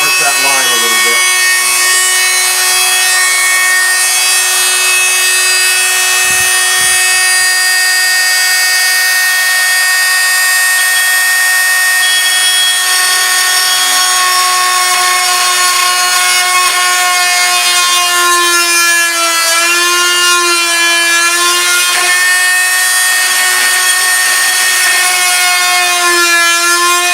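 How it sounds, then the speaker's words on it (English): A vibro saw cuts dense hardwood for a TriLoom, making a loud, continuous, steady buzzing drone with shifting overtones. A voice speaks over part of it. "When you're using a vibro saw on hardwood, because hardwood is a lot denser than"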